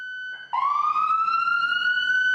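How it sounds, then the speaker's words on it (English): A fire rescue emergency vehicle siren starts with a short tone, then sweeps up into a loud, steady electronic wail that is close and clear, with no talking. "When the sirens go off, it's time to work"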